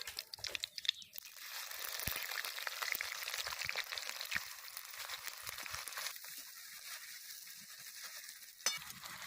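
Whole cinnamon, cardamom, bay leaf and chopped onion frying in hot oil make a dense, steady crackling sizzle with stirring scrapes, fairly faint and close. A sharp clink comes near the end.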